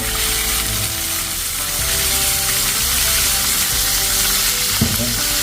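Tilapia sizzles and crackles in hot oil, a loud, continuous frying hiss with an occasional sharper pop.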